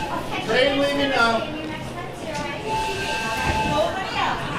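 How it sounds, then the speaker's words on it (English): A staged train-departure sound effect plays during an amateur theatre production of Hello, Dolly!, giving a continuous hissing rumble with tonal whistle-like notes, alongside voices. "Train leaving now."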